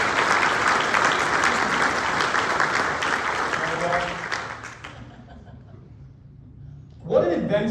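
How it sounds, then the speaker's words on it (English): An audience at a 2024 city update with the mayor applauds steadily for about five seconds, the clapping fading out before a speaker resumes. "So I can give them a round of applause."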